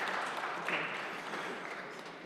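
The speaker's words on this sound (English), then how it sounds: "if we could give Brother Andre Hainsworth a round of applause" A round of applause from the audience at a city council meeting in a chamber, fairly faint, even clapping that carries on without a break.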